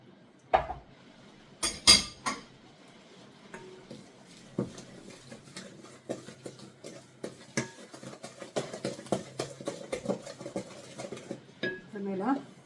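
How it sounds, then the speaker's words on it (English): Egg being beaten in a bowl while making banana muffins, a run of quick clinking and tapping strokes against the bowl that build into a steady rhythm, with a few louder knocks near the start. "beat an egg"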